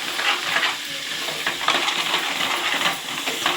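Chili powder frying in a pan for a tamarind fish curry, a steady close sizzle with stirring scrapes running throughout, no voices.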